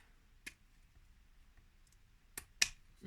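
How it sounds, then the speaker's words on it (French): Pinking shears cut through paper with a few sharp, dry snips. The snips are spaced apart, with a quick pair near the end, close and quiet in an otherwise silent room. "ça fonctionne très très bien avec les ciseaux cranteurs"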